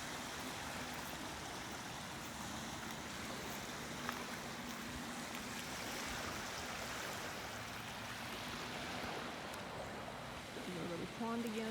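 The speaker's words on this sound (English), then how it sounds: "A little pond again, or stream." Steady wash of flowing water from a small stream near a beach, a continuous soft rushing that stays quiet and even throughout, with no clear voices.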